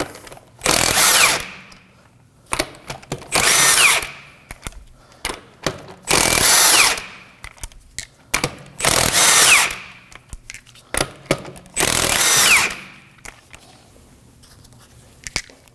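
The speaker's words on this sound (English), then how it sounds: "We're going to remove the tire using a 19mm socket." Impact-style power tool spins off the rear wheel lug nuts of a 2014-2020 Acura MDX with a 19mm socket, five loud close bursts about a second long each, separated by brief gaps with small clicks and no talk.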